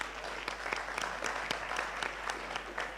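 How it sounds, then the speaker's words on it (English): Audience applause at a Kenyan discussion event, a steady wash of many hands clapping with sharp individual claps standing out, moderately loud and continuous throughout. "Give yourselves a round of applause."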